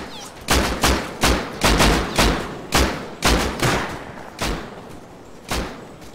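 Gunfire in the survival video game Rust during a fight: about ten sharp, close shots, irregular but mostly about half a second apart, each with a brief echoing tail, some in quick pairs.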